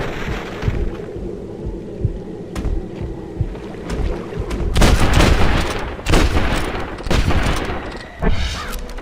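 A powerful low-capacity rifle fires in the Red Dead Redemption video game, with several loud, close booming shots in quick succession over ambient game sound and no talking.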